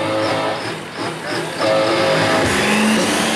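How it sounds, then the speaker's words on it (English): A diesel truck engine roars loud and close at a night truck show, a sustained revving drone with a brief dip before surging louder again. "This truck is incredible."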